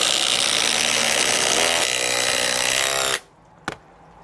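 DeWalt DCF860 and 887 impact drivers at highest speed sinking 5-inch screws into wood without pre-drilled holes, a loud steady hammering rattle for about three seconds that cuts off abruptly, then a brief clack.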